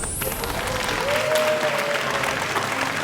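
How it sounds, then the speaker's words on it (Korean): An audience breaks into applause at a Seoul Philharmonic concert setting, a dense crackling clatter of many hands that runs the full length, with a brief faint tone sliding through the middle. "박수!"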